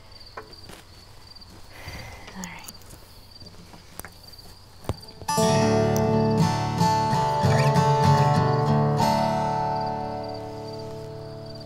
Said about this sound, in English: I'm sure you can hear these beautiful crickets and birds at home.